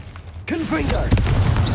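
A Confringo fire spell bursts in Hogwarts Legacy, landing as a sudden booming blast after a brief quiet lead-in and followed by crackling, rumbling debris under a voice.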